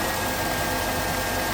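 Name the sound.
2006 Chrysler Town & Country engine idling after A/C compressor change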